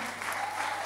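Applause from a congregation at a church service, a short, steady patter of many hands clapping at moderate distance.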